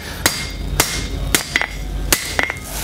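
A hammer strikes hot copper being forged into a spatula on an anvil, giving sharp ringing blows, some single and some in quick doubles, spaced about half a second apart and close up.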